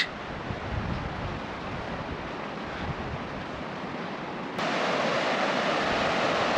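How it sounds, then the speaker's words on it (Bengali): A river flows through a mountain valley in strong wind, a steady rushing wash with wind buffeting the microphone. It grows louder and brighter in the last couple of seconds. "সুন্দর নদী বয়ে চলে যাচ্ছে, আর হাওয়া আছে, প্রচণ্ড হাওয়া।"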